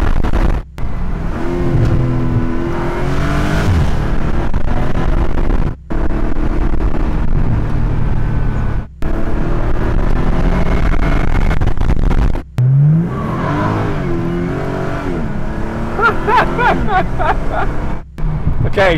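A 2019 Morgan Plus Six with a Supra engine accelerates hard in sport mode. The engine is loud and close as it climbs through the revs, with pauses at several gear changes, and there is talk over the sound.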